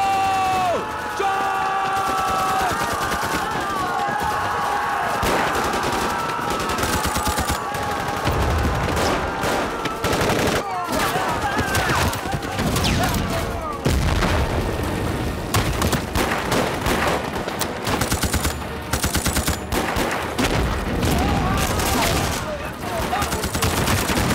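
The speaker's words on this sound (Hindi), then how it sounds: "Give me cover fire." Dense gunfire and bursts of automatic fire from a war film battle scene between Indian and Chinese troops, with cover fire and shouting soldiers; loud and continuous with sharp cracks and low booms, voices mixed in.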